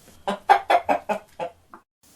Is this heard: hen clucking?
yes